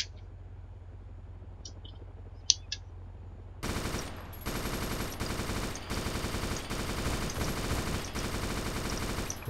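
Rapid automatic gunfire from a PvP firefight in the video game DayZ erupts after a few quiet seconds with faint clicks, then continues as dense, loud, sustained bursts with brief gaps.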